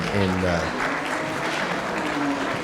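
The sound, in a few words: applause for livestock show exhibitors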